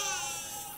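A newborn baby cries in a Telugu movie scene, one short, thin, high wail heard alone and fairly faint.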